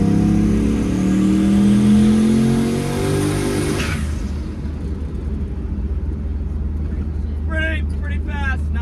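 A turbocharged Chevrolet C10 truck engine revs hard and accelerates, rising in pitch with a loud, close roar, then drops to a rumbling idle while a voice speaks briefly near the end.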